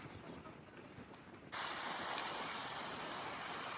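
Sea waves wash against the shore beside Kuwait Towers, a broad steady rush of surf mixed with wind buffeting the microphone, growing louder partway through and then holding constant.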